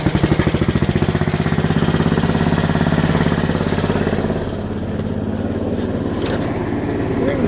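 An 11hp Honda engine fitted to a 1959 Case 700 tractor chugs loudly and close with a rapid, even pulsing beat that settles into a steady running rhythm.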